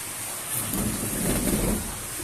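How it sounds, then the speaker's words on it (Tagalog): Steady hiss of running water pouring down, broad and constant like a shower spray, with no voices. "Shower na ito."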